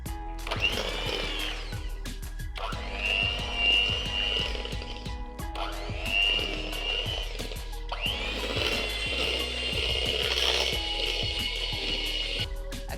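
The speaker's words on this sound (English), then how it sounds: "I am just going to whisk that up" An electric whisk runs through a light, cream-based cheesecake mixture flavoured with apricots, nectarines and orange blossom, whirring in four close, steady bursts separated by brief pauses.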